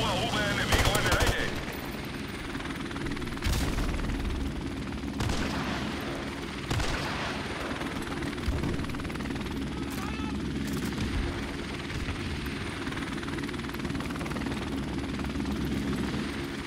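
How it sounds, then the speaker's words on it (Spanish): An allied helicopter in Call of Duty: Modern Warfare Remastered drones with a steady, continuous rotor roar, while scattered bursts of gunfire crackle across the battlefield around it. "Helicóptero aliado en camino."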